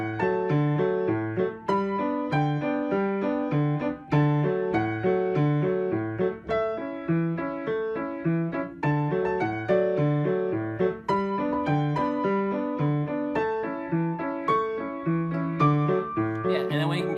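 Piano plays the Teletubbies theme song with a repeating chord pattern, a bouncy, steady rhythm of low chords under a simple melody, played alone and clearly.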